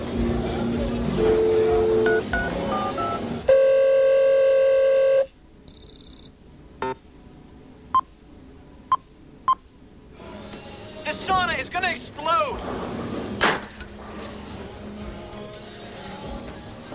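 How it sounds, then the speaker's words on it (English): Telephone dialing tones from a 1993 sci-fi horror film: a steady harmonic tone, a short high beep, then a series of brief, evenly spaced beeps, with voices and other film sound around them. "I think I better call him."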